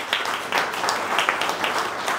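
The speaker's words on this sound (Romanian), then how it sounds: "vă mulțumesc că l-ați aplaudat" Audience applause at a photo exhibition and film screening, a steady wash of many hands clapping at moderate level with small surges, no voices standing out.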